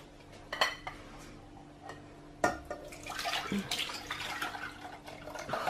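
Chocolate custard mixture poured back into a cleaned saucepan in a home kitchen, with a soft liquid stream, drips and a few sharp clinks of utensils and pan, moderately close.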